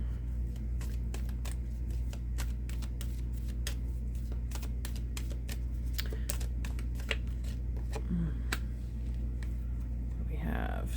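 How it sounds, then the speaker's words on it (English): Queen of the Moon oracle cards are drawn and shuffled in a series of quick, crisp flicks and snaps over a low steady hum, with faint rustling toward the end. "Let me get a Queen of the Moon Oracle card here."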